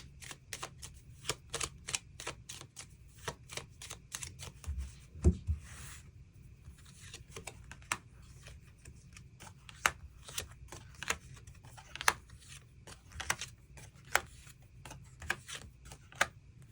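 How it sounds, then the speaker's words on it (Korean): Tarot cards are shuffled and drawn by hand: a steady run of quick, crisp flicks and snaps up close, with one soft thump partway through and no voices. "추가 카드 뽑아보도록 하겠습니다"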